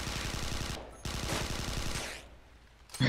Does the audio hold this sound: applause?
no